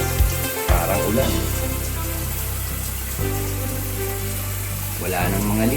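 A new hand shower in a bathroom sprays water in a constant hissing rush, close by, with a few brief knocks and shifts in the flow.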